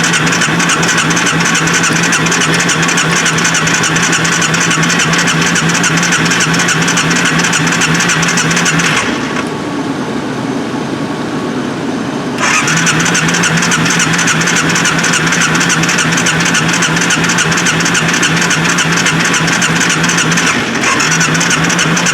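A 2003 Arctic Cat 400i ATV engine is cranked for a cold start, giving a loud, steady mechanical drone that cuts out briefly partway through, then resumes at the same level.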